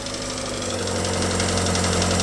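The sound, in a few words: 1950s car engine idling with slight tappet noise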